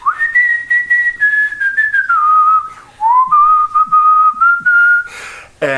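A person imitates someone whistling, a long sliding whistled melody held at steady loudness with a few brief breaks, close by and with no talking.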